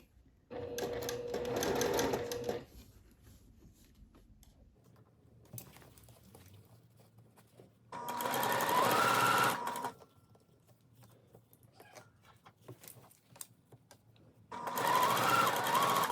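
A domestic sewing machine stitches a seersucker dress in three separate bursts, each a couple of seconds of fast, close mechanical whirring, with quiet handling gaps between them.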